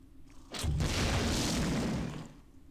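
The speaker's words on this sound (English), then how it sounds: "I'll probably use these grenades on these spiders." A grenade explosion in the video game System Shock 2 bursts out as a loud, close boom and then holds as a broad, rumbling roar for about a second and a half before fading.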